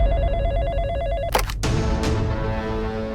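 A telephone rings in a repeated warbling pattern during a call to a news channel, then cuts off with a couple of sharp clicks as the line connects.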